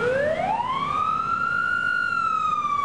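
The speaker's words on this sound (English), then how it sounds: "sounds of sirens." A loud siren wails steadily, its pitch rising and then holding high, with no voices over it.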